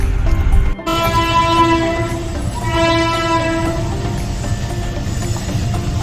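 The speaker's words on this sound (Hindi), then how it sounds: "कौन सी ट्रेन है ये? वाराणसी।" A train bound for Varanasi passes near the Ravi bridge in Punjab. A loud, close horn blares twice over the steady rumble and rattle of the moving carriages.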